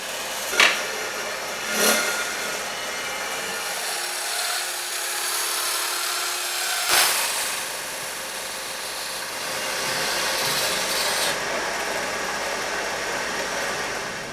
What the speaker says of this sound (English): I'm starting by removing the entire front triangle with 2 cuts at the bottom bracket and the seat tube